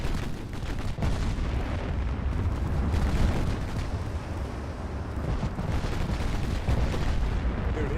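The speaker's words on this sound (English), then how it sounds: "God help any of these little destroyers get hit with these high-capacity HE rounds from 18-inch guns" Heavy naval guns of Ultimate Admiral Dreadnoughts firing 18-inch high-capacity HE rounds at destroyers: a dense, continuous roar of booming blasts and rumbling explosions, loud and unbroken throughout.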